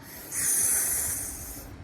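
A voice imitates a steady, sharp hissing "sss" sound, held for over a second, close and clear with no other talk.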